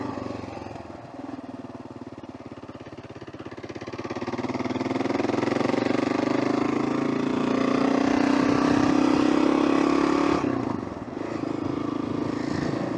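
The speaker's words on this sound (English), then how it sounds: "Bike's running great." A motorcycle engine drones steadily while being ridden in cold weather, rising in pitch as it accelerates and then easing off near the end, with wind rush mixed in.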